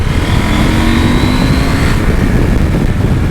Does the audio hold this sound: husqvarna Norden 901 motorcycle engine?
yes